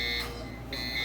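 Electronic alarm buzzer, two steady high-pitched beeps with a short gap between them, heard close over a constant background hum.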